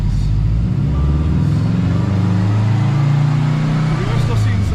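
A 2017 Subaru STI accelerating: a deep, close engine rumble that climbs steadily in pitch and loudness, then eases near the end.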